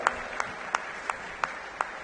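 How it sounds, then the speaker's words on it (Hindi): An audience at a Delhi community event claps in unison, six evenly spaced claps about a third of a second apart, over a low crowd murmur. "जोरदार ताली बजा दो भाई।"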